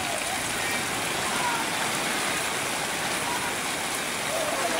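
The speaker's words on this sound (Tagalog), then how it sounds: "medyo malakas yung ulan" Heavy rain pouring down outside, a dense, steady hiss of water hitting surfaces that stays constant and loud throughout with no other sound standing out.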